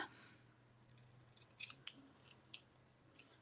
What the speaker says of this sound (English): And I get the scissors, and now I can trim this off.